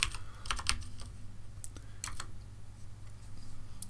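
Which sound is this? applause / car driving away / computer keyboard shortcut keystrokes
computer keyboard shortcut keystrokes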